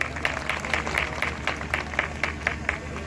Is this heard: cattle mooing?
no